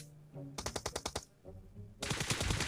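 Bursts of rapid automatic gunfire from the PUBG Mobile game, a short volley of about seven sharp shots followed by a denser, louder burst, close and clear.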